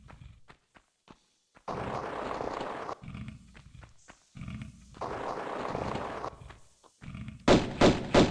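Sharp gunshots from Tomb Raider I Remastered ring out in a few separate bursts with short gaps between them, mixed with game thuds and movement noises, and the loudest cracks come near the end.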